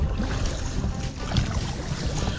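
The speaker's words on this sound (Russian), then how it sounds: "Восток дует, восток, ветер, так сказать, так себе" Gusty east wind buffets and rumbles across the microphone outdoors on a fishing trip, a steady low roar with some faint water movement beneath.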